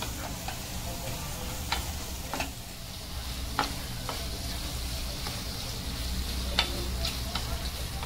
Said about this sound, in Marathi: कोलबी चांगली परतून घेतली आपण